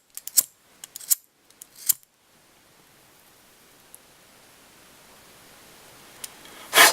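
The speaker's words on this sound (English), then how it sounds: "snip that off." Scissors snip thread while a salmon tube fly is tied at a fly-tying bench: a quick cluster of crisp cuts near the start, then quiet hiss and a single louder snip at the end.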